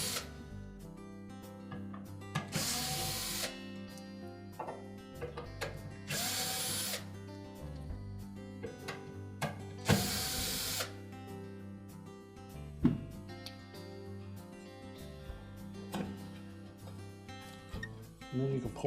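A power drill spins out the four screws holding the bushing to the back of a Whirlpool dryer, three loud whirring bursts between quieter clicks and handling noise, with someone talking underneath.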